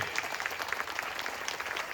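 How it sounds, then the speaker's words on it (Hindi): A church congregation claps together in a brief burst of dense, continuous applause at moderate level, with faint crowd noise mixed in. "जोर से तालियां बजाइए"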